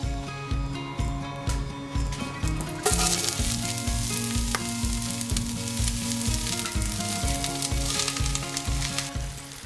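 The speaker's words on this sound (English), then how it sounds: "all this is going to go into the pan and saute until golden brown" A leek and white bean mixture sautéing in a pan, a dense continuous sizzle with a low rhythmic mechanical hum beneath it, growing louder and brighter partway through, close up.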